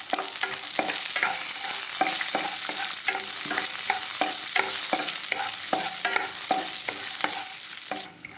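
Steady crackling sizzle of cashews frying in hot ghee, with a rhythmic series of scraping stirs throughout, close and continuous.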